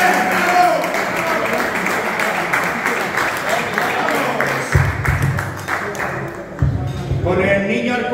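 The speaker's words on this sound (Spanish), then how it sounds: "Venga, un aplauso muy fuerte para él." An audience at a tribute event for former Córdoba C.F. players claps loudly and steadily for several seconds, a dense sustained applause with a few brief dips and no speech over it.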